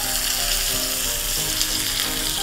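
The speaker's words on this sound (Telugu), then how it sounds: "పోపు కోసం కొద్దిగా ఆయిల్ వేస్తున్నాను." Oil sizzling in a pan for a tempering while making spicy majjiga pulusu, a steady soft crackling hiss that holds evenly throughout with faint background tones.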